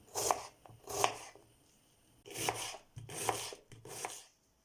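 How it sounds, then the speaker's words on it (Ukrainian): A knife chops through onion on a board in several bursts of quick, crisp cuts with short pauses between them, close up, in a home kitchen. "Нарізаю цибулю."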